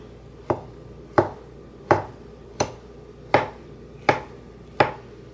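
Knife chopping vegetables on a cutting board for shrimp spring rolls: seven crisp, evenly spaced cuts, close and clear, with no talk.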